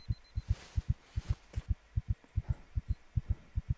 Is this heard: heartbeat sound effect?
yes